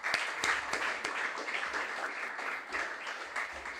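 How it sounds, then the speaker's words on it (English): An audience at a junior science and maths quiz final claps steadily at moderate volume, with a few sharper individual claps standing out from the crowd. "Can we give him a round of applause?"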